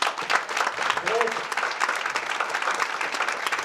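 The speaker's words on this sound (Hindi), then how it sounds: "तो मैं चाहूंगी विनय जी के लिए जोरदार ताली।" Enthusiastic audience applause at an awards-style event, sustained dense clapping filling the room for several seconds, with some voices mixed in under the clapping.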